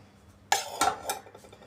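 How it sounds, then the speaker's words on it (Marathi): Dal dhokli, the Maharashtrian varanphal, being mixed with ghee in a metal pot: a few sharp clinks of a spoon against the vessel, then quieter scraping, close by with no voices. "आता हे छान मिक्स करायचं"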